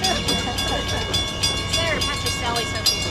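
A train passes close by, its continuous rumble and rattling wheels filling the whole stretch with a steady roar and some high squealing tones, while a voice speaks faintly beneath it at an outdoor press conference.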